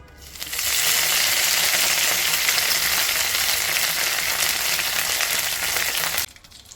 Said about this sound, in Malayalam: ഇനി ഇതിലേക്ക് വറ്റൽമുളകും കറിവേപ്പിലയോട് ആഡ് ചെയ്ത് കൊടുക്കുകയാണ് കേട്ടോ.